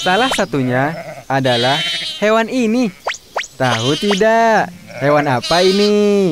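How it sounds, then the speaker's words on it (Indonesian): Sheep bleating on a farm with livestock, several loud, close, wavering bleats in short bursts, mixed with a voice speaking between and over them. "Ini adalah domba."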